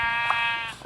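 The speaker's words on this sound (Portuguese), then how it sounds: "tem uma ovelha ali, tem uma ovelha" A sheep bleats in a video game, one sustained nasal cry lasting nearly a second, heard clearly on its own without talk.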